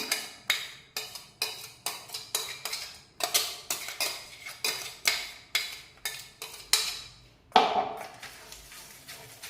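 A utensil mixing green chutney into grated butter in a bowl, giving rapid rhythmic scraping clinks, about a dozen quick strokes in a row, close and crisp, with no talking.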